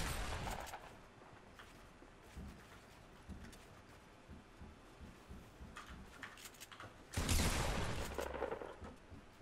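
Shotgun blasts in the Fortnite video game ring out as scattered single shots, with a louder burst near the end, over steady background game noise and no talk.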